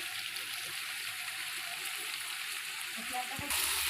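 Chicken sizzles steadily in a pot over a wood-fired chulha stove as raw coriander goes in, a dense, even crackle close by that holds for the whole stretch and swells slightly at the end.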